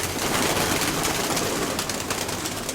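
Pigeons in a loft, including a ginger pigeon, cooing amid constant broadband noise, soft calls blended into a steady rushing background.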